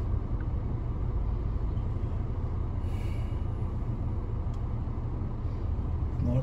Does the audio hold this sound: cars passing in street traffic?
yes